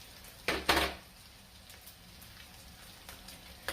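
Pine nuts browning slightly in a pan on the stove, a faint steady crackle with a brief clatter of the pan near the start.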